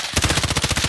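Rapid automatic gunfire in a video game, a tight burst of about a dozen evenly spaced shots fired close and loud in under a second, with no talk.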